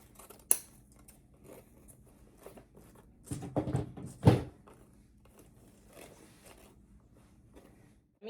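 Scissors snip ribbon for a bow on a handmade Grinch Christmas wreath, a sharp cut followed by a few crisp, close snips and soft rustling, with no talking.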